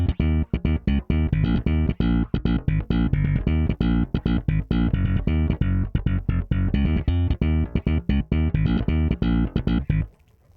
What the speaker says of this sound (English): So I made a bass line that sounds like this.